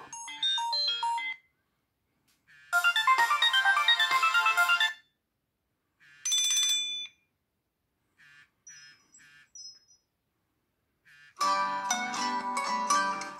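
Several short electronic phone ringtones play one after another, separated by brief silences, each a bright, melodic chirping tune heard up close.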